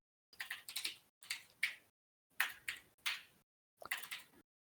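Quiet typing on a computer keyboard in short clustered bursts of sharp key clicks, separated by brief silences, close and alone.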